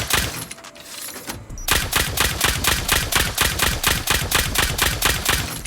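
Massed nail gun auto-turrets firing in a video game, a fast, steady, evenly spaced rattle of shots, loud and close, starting after a short quieter lead-in.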